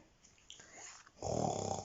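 A reader voices a drowsy snoring imitation while telling a bedtime story about a little pig and her brother, ending in a loud, close, breathy rasp after softer murmuring.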